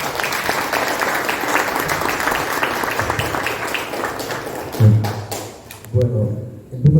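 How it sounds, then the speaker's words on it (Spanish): An audience at a Spanish-language book presentation applauds the author, a loud sustained wash of clapping that thins out toward the end, leaving a few scattered thumps. "Un aplauso para él."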